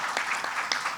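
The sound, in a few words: audience applause for a poem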